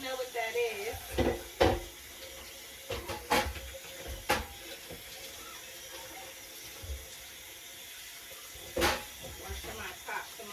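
A pot lid is rinsed under a running kitchen tap in a series of short, moderately loud splashing bursts with quieter gaps between them, close up, with a voice speaking in between.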